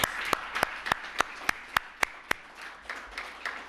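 Audience applause at a community tribute event, a soft crowd patter with one or two close, loud clappers striking a steady rhythm of about eight sharp claps before fading into a lighter spattering.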